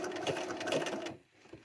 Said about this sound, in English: you can just start sewing with your pedal. I put my machine in the slowest possible speed